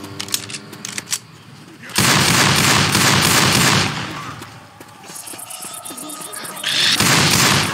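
Gunfire from the zombie shooter Left 4 Dead 2 comes in dense, loud automatic bursts, with a quieter stretch of scattered shots at the start and a brief lull midway before the firing picks up again.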